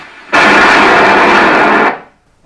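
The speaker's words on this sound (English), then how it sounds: "Sometimes we just straight up blow things up." A single underwater explosion in the sea produces one loud, dense roaring blast that holds for about a second and a half before cutting off into near silence.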